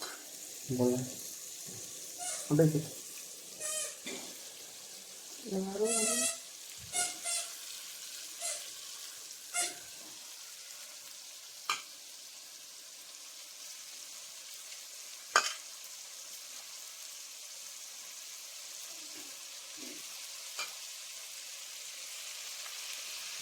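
Country chicken pieces stirred and fried in oil in a pan for a watery curry, with scattered scraping stir strokes over a low steady sizzle, louder bursts early on then sparse clinks, no talk.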